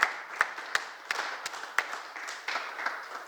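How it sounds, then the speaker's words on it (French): Scattered hand claps from a church congregation acclaiming the Lord: a handful of sharp, separate claps at an uneven rhythm, moderately close, with no talking over them. "Non, acclamons le Seigneur."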